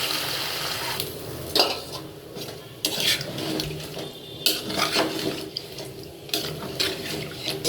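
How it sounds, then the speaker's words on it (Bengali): Rice frying in a pan at home, a steady sizzle with scraping stirs and splashes, alongside running-water and clattering sink-like sounds, with no talk. "চালটা বাইরে অল্প স্বল্প চাল ভাজে উপরে দিয়ে দেবো"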